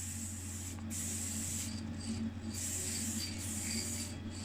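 Steady hiss of undercoat being sprayed onto a model 1957 Volkswagen Micro Bus, in continuous bursts with brief pauses between passes, close and even over a low background hum.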